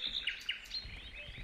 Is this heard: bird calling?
yes